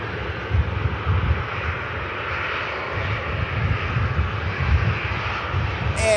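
Jet airliners taxi and push back at Manchester Airport, a steady low engine rumble and broadband roar that holds throughout with slow swells, heard from a distance with no talking.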